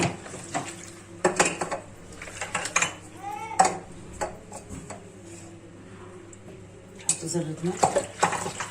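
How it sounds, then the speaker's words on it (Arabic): Milk, ghee and salt stirred together in a bowl for sugar and jam pastry dough, with scraping spoon-on-dish clinks and taps in bursts while someone talks. "نقلب كل المكونات دي مع بعض"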